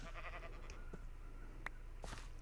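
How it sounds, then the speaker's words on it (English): Sheep bleats in a video game, a few short, faint cries spaced out over a quiet background hum, with no talking. "There's your sheep."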